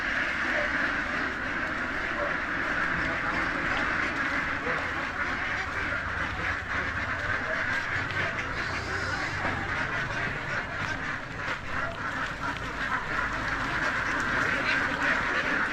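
A crowd of layer ducks quacking constantly during loading at a farm in Victoria, Laguna, a dense loud chorus that never pauses, with faint background activity.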